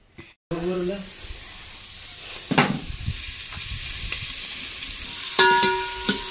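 Tempering sizzles hard in a clay-coated pot on a wood-fired stove: a loud, steady hiss that starts abruptly after a brief voice, with a clatter partway through and a sharper burst near the end.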